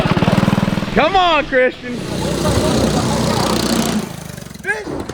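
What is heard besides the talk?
homemade go-kart engine running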